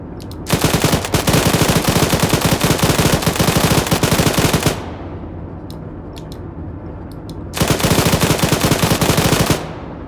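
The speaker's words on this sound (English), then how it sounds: "engaging machine gun" A PKM machine gun in a video game fires two long sustained bursts, loud and close, with a brief pause of faint clicks between them.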